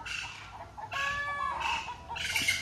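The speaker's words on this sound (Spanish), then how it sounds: "andan esos pájaros que te dije, ¿eh? Y anda una gallina. Entonces, por eso el escándalo." A chicken clucking in a backyard organic vegetable garden, a few loud, close squawking bursts separated by short pauses, with birds around and no talk.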